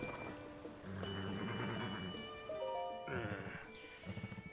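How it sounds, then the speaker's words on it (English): Steady rain falling in the video game Zelda: Tears of the Kingdom, a continuous wash of patter beneath tonal game music and short sound effects, with no talking. "I hate the way rain feels, but I don't mind how it sounds."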